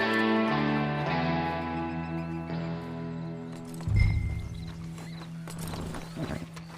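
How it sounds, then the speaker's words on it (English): Horse hooves clip-clop in the Red Dead Online video game, with a few scattered footfalls and a whinny or snort after sustained musical tones, fairly quiet and without talk. "Then you better get on this horse."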